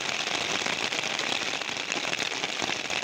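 Steady rain pattering on surfaces, a dense crackling hiss that continues evenly from start to finish with no voices.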